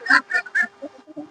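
A duck on a farm calls while feeding on water hyacinth, giving three loud close honking quacks followed by a few softer, shorter calls, with no talking.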